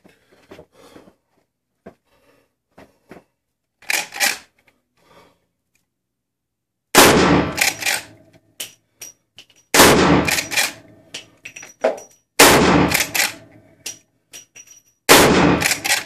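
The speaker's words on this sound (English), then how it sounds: "Let's fire a few rounds and see how it goes." A Winchester 94 lever-action rifle in .44 Magnum fires MagTech 240-grain rounds at an indoor 15-yard range. Four or five loud, sharp booming shots come several seconds apart, with metallic clicks and clacks of the lever action between them.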